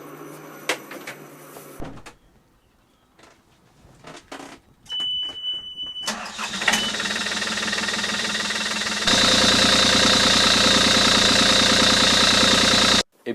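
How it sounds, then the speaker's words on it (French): A combustion boat engine runs at a boat show, starting with bangs and knocks after quiet moments, then settling into a loud, steady, rough idle with a constant high mechanical whine that continues to the end. "Maintenant, allons voir un moteur thermique."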